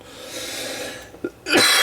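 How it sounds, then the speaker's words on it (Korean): A single close cough from a person who had been assembling a LEGO Creator auto repair shop set, a short breathy burst followed by a louder, fuller cough at the end, with no talking. "또 갑자기 기침이 나네."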